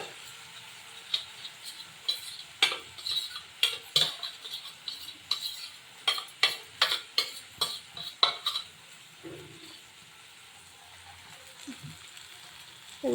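A spoon stirs a poppy-seed and mustard spice paste for a rohu fish curry in a pan, giving a run of rhythmic close clinks and scrapes that fade to a quieter simmer near the end.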